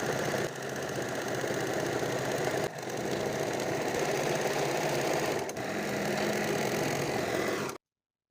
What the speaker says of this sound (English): Now I'll place the fabric right alongside the blade and sew, stretching my fabric from both sides to get the best curly lettuce feature.